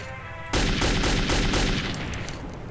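Gunfire in the video game Metro 2033, opening with a sudden loud burst and carrying on as a dense, rapid string of close shots without any talking.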